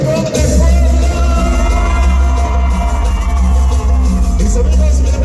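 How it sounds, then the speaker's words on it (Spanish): A large crowd at a sound-system event at the Centro Expositor in Puebla roars and shouts its cheer, loud and continuous over heavy low-end booming music. "Y el grito chingón de Puebla."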